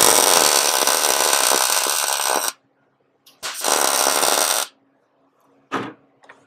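Arc welding on the chassis tunnel of a 1968 VW Beetle: two loud, close bursts of harsh crackling buzz, the first about two and a half seconds, the second shorter, separated by silence, with a brief final spurt.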